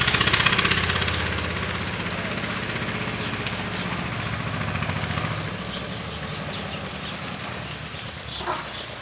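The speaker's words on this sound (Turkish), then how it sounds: "burada da inşaatta çalışma var bugün. Beton döküyorlar." Construction machinery runs at a building site where concrete is being poured in a Turkish village on a rainy day, making a steady mid-distance engine drone that fades slightly over time, with one faint knock near the end.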